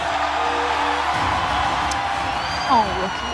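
A large arena crowd cheers and roars continuously at a League of Legends esports world final, a dense, loud wash of voices with a brief whoop near the end.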